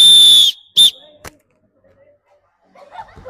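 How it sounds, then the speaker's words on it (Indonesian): A teacher's whistle sounds during a straddle-jump physical education lesson: one long shrill blast, then a second short sharp toot, followed by a quiet pause and faint background voices. "Tunggu peluit."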